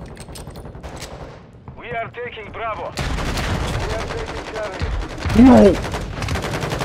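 Pistol fire in Call of Duty: Modern Warfare II, rapid loud gunshots crackling in dense bursts over game noise, with a voice shouting briefly in the middle.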